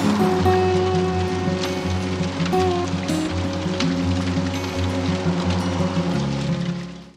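Steady rain pours down continuously, a dense hiss of drops on surfaces with low rumbling underneath, no voices.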